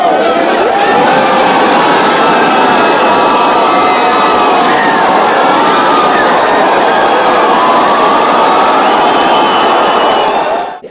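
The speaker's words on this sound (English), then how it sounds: "it's like a college football game with these kids cheering" A crowd of kids cheering and shouting loudly throughout a SpaceX launch broadcast, a dense, continuous roar of voices that stays close and intense before cutting off abruptly at the end.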